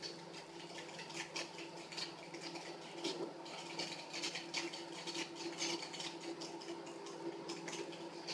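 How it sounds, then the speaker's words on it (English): Steady rapid scraping and swishing of a hand whisk beating cream in a bowl, continuous and fairly close, with no talking. "So my whipped cream is whipping."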